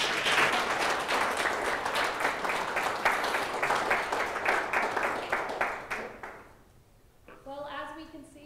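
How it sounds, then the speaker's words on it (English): An audience claps for a panel discussion at a journalism event, a sustained burst of dense applause that fades out after about six seconds, then a voice begins speaking. "please give our panel a round of applause"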